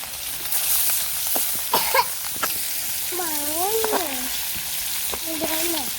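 Koi fish spluttering and sizzling in hot oil in a pan, a steady loud frying hiss with sharp spits and pops, while a cat meows a few times close by.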